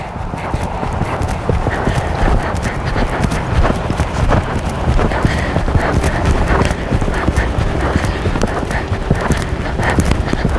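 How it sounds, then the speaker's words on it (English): Steady, continuous hoofbeats from a dressage horse cantering through its warm-up, a dense rhythmic clip-clop that stays close and fairly loud from start to finish with no talking. "I kind of feel like I have a good canter going"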